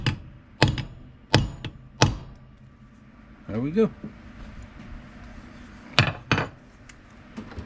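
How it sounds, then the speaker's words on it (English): A steel hammer strikes leather in a series of sharp, close taps spaced about a second apart, with a short burst of speech in the middle. "I use a steel hammer for this."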